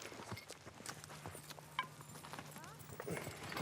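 Horses walking across open desert ground, their hooves making a soft, steady clip-clop at middle distance over a low ambient background with faint voices.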